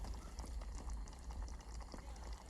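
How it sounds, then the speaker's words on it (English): Pad thai simmering on a camp stove beside Marble Lake on the Great Divide Trail, a steady low burner roar with soft bubbling over constant outdoor background. "Just ate a bunch of food and I'm simmering my pad thai."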